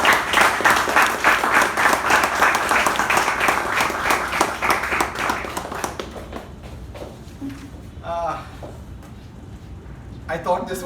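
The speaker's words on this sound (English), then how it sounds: "with applause and noise, please help me welcome our president, Toastmaster Balaji." An audience at a Toastmasters installation ceremony claps loudly and steadily for about six seconds. The applause then fades to scattered claps and quiet room noise.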